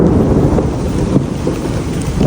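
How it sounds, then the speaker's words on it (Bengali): Thunder rumbles low and heavy across the sky during rain in hill country, a loud continuous roar mixed with rain and gusty wind buffeting the microphone. "যে আসমানে আওয়াজ হইতেছে গাইস প্রচুর আওয়াজ হইতেছে আসমানে"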